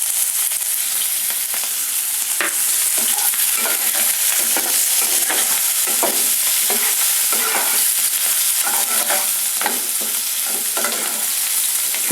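Chopped onion fries in oil with dried red and fresh green chillies, a constant loud sizzle broken by repeated spatula scrapes and stirring knocks against the pan.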